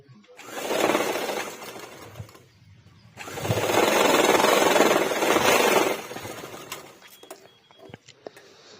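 Sewing machine stitching a quarter-inch fold along a uniform top's collar neck, heard close in two bursts of fast whirring, one short and one longer, with quiet gaps and light clicks between them.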